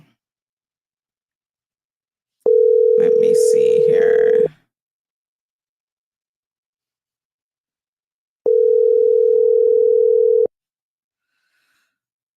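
A telephone tone sounds in two steady, loud bursts of about two seconds each with a long silence between them, heard as a phone call is placed. Someone speaks briefly over the first burst.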